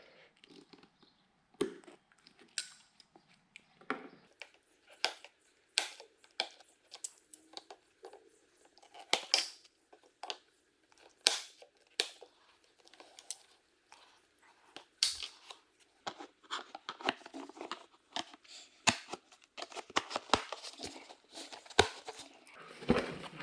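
Snipping a small plastic piece from an Anzo bumper step light fitting on a GMC Canyon or Chevrolet Colorado, heard as a run of quiet sharp clicks and cuts with handling rustle, close up and unevenly spaced, with no voices.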